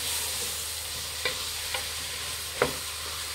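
One finely chopped tomato fries in oil with chicken for biryani, a steady crackling sizzle broken by several sharp scrapes of a spoon stirring the pan, close and fairly loud with no talking.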